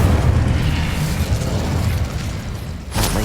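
A loud, booming Incendio fire spell blast from the video game Hogwarts Legacy roars steadily for about three seconds, then ends in a sharp crackling burst.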